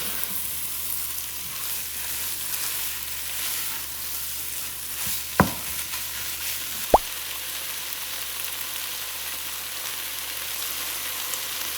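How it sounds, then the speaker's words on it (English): Quiet, steady frying sizzle in a pan of mixture being stirred, with two brief sharp clinks or scrapes of a utensil against the pan partway through. "we're going to give this a stir"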